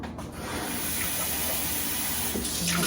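A smoothie poured from a Ninja blender pitcher into a cup makes a continuous close liquid gush and splash, steady and fairly loud throughout.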